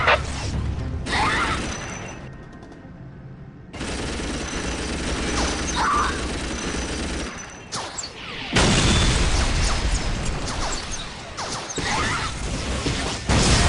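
Whirlwind artillery tank in Warhammer 40K: Dawn of War, a loud stretch of battle noise with mechanical clatter, repeated booming blasts and scattered gunfire in bursts, broken by brief quieter gaps.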